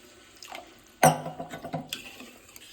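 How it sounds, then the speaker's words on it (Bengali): Water poured into a pan of fish curry masala, a sudden close splash and sizzle followed by bubbling and small gurgles that fade over a couple of seconds, no talking. "এবারে পরিমাণ জলটা একটু বেশি দিতে হবে"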